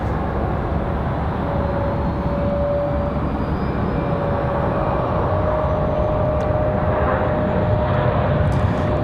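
An airliner lands at Raleigh-Durham International, its engines giving a steady, fairly loud roar with a faint whine running through it, continuous and unbroken.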